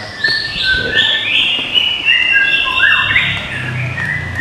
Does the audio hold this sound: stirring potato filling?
no